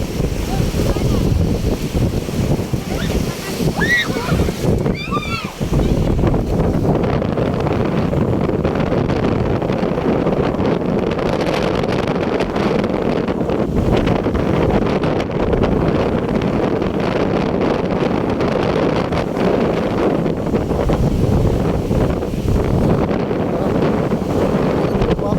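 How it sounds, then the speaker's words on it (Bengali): Strong wind roars steadily across the open water of Hakaluki haor wetland with waves churning, a loud continuous buffeting on the microphone throughout, with a voice talking over it near the start. "এত বাতাস দেখেন অবস্থা এত ঢেউ মানে বলার মতো না"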